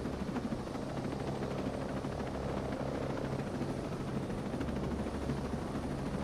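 An enemy helicopter in Ghost Recon Breakpoint thrums continuously nearby, a loud steady rotor chop with deep engine rumble that holds throughout.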